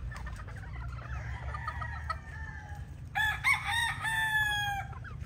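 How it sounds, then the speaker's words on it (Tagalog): Young gray pullets clucking on a farm, a cluster of soft clucks and calls over a low steady background rumble, growing louder and busier toward the end, with no talk. "So ito yung mga pullets nating gray"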